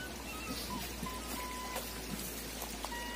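Nutrient water running fast through a sloped hydroponic NFT channel growing lettuce, a steady soft trickling and dripping wash with faint brief plinks over a low hum, quiet and close, no talking.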